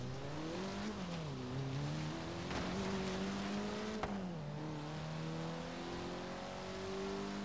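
A car engine revs up close from outside in the Forza Horizon 3 racing game, its pitch climbing and dipping through several throttle swells over a steady, loud drone, with no voices.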